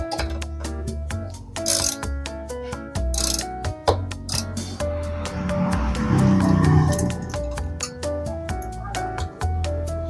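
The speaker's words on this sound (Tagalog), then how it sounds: "higpitan na natin gamit itong Allen screw natin with ratchet" Ratchet tightening an Allen screw on the crash guard of a Honda ADV 160 scooter, a series of close, sharp clicking bursts in quick runs with brief pauses between strokes, with a sustained grinding rasp in the middle.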